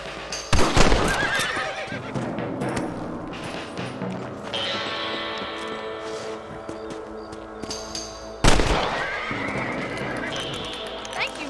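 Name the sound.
horse neighing in Red Dead Redemption video game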